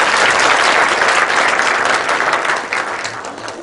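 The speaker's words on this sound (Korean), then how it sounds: "큰 박수 한번." Audience applause at a public humanities lecture held by a court, steady and loud clapping from a full room that sustains throughout and tapers slightly near the end, with no voices over it.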